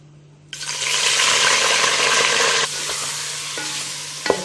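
Whole garam masala is dropped into hot oil for a mutton badami kurma and bursts into a loud, close, steady sizzle that holds for a couple of seconds, drops to a softer frying hiss, then ends with a sharp clatter.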